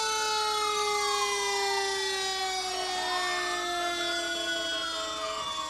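A BC Ambulance siren wails steadily at a winter carnival parade, its tone sweeping slowly up and down, loud and continuous with no talk over it.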